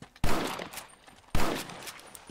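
Two loud, sharp rifle shots fired at the moon in the video game Red Dead Redemption, each a hard crack that trails off into a rolling echo, about a second apart.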